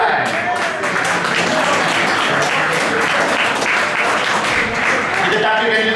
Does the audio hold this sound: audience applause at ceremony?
yes